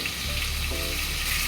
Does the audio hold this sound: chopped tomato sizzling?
yes